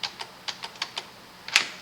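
Keyboard keys clicking as Ctrl+Z undo is pressed repeatedly while working in Cinema 4D, about seven short, crisp taps in an irregular rhythm, close and fairly quiet, with one louder double click near the end and no talking.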